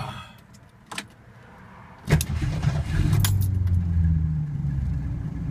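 A 1964 Mercury Comet is started up, with keys jangling and a clunk before the starter catches, then the engine fires and settles into a steady, close, rumbling idle, with no talking.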